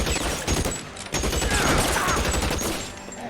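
Covering gunfire in the video game L.A. Noire: rapid bursts of shots crackle in quick succession, a dense fusillade with brief pauses, moderately loud throughout.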